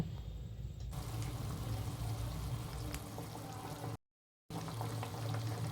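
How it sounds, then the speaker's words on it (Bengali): Hilsa fish coated in salt, turmeric and mustard oil added to boiling water in a pan, giving a steady close bubbling and sizzling wash with a brief gap near the end and no talk. "জলটা ফুটে এসেছে এবার আগে থাকতে যে নুন হলুদ আর সর্ষের তেল মাখিয়ে রেখেছিলাম মাছগুলোকে এবার মাছগুলো দিয়ে দেব"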